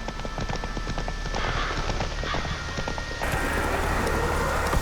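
Roach, a horse in The Witcher 3, gallops in a steady rapid clip-clop of hooves, close and continuous, with a louder rush of wind and movement building toward the end.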